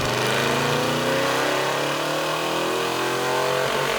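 A rebuilt 1994 Ford F-150 SVT Lightning V8 with a mild cam makes a steady, loud full-throttle pull on a dyno, its engine tone climbing smoothly in pitch throughout.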